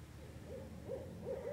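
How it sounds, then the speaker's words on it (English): Owls call near woodland in the Lyonia Preserve, Central Florida, with several faint hoots spaced apart over a low steady background hum; no talking. "there's these two owls that have been talking to each other, and then one of them just started making that crazy noise."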